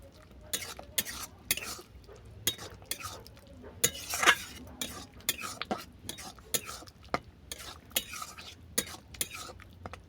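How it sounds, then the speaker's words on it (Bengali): A spoon stirs mustard paste into a pot of kolmi greens ghonto with boiled bori, giving repeated soft scraping and clinking taps against the pan, close and fairly quiet, with a few louder strokes. "সরষে বাটাটাকে ভালো করে মিশিয়ে নেব"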